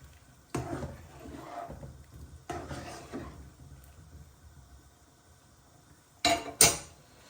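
Four or five chilies are stirred in a metal cooking pan for a Bangladeshi kala bhuna black beef curry, giving two soft scraping passes followed by a pair of sharp utensil clinks against the pan.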